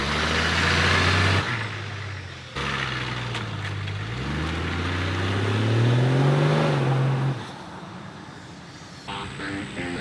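A Nissan Patrol with a swapped TD42 turbo diesel engine revs and drones while driving in dirt, rising and falling in pitch as it accelerates and eases off, loud and close with no talking.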